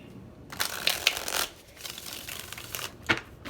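Tarot cards are shuffled by hand for a pick-a-card love reading, giving close, papery riffling bursts with brief pauses and a final sharp snap.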